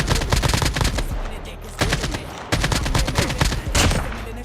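Assault rifle gunfire in Call of Duty Mobile, loud rapid automatic bursts with short gaps between them, sharp and close, with no talk.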